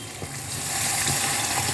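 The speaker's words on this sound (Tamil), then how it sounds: "இதுக்கு தேவையான புளி ஜலம் ஊற்றுறேன்." Tamarind water poured into a pan of frying turkey berries for a vatha kuzhambu, a steady hissing sizzle that swells and holds loud and close throughout, with no voices.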